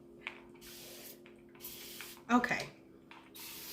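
Short hissing bursts from a water spray bottle, several quick spritzes close by with one louder sputtering spray near the middle, and a brief spoken word.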